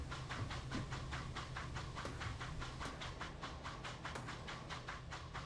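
Low-powered Corris locomotive running on a light railway in a train simulator, a faint steady chuffing beat with soft repeated rail clicks and a low rumbling hum underneath.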